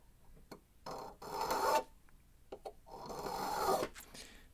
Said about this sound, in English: I'll take my rougher file and I'll just go over that twice.